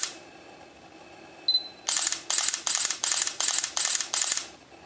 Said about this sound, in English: I also want to show you how loud the shutter is.